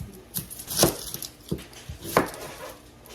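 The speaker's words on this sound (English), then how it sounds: "I'm going to start chopping my onion" A knife chops an onion on a cutting board in several crisp, irregular knocks, close and fairly quiet, with short pauses between strokes; no one speaks.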